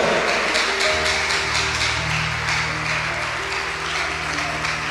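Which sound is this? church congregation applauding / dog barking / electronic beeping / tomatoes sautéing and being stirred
church congregation applauding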